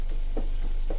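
Onions sautéing in a pan for Filipino squid adobo, a steady close sizzle with a couple of soft stirring scrapes.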